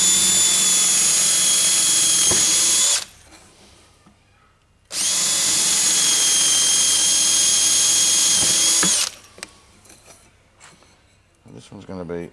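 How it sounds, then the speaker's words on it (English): A power drill with a large bit whines loudly at high speed in two long bursts while drilling holes in model house bearers and joists, with a short pause between them, followed by quieter handling noises. "using a decent sized drill bit, you want it fairly big, just drill your holes."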